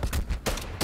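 Single-fire TEC-9 shots in Call of Duty: Cold War, three loud, sharp reports spaced roughly evenly in quick succession, each with a brief decaying tail, no talking.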